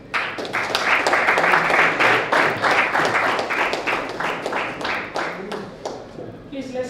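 An audience at an agri-food systems conference claps in a burst of individual, rhythmic hand claps that build, hold, then thin out and fade near the end as a voice comes in.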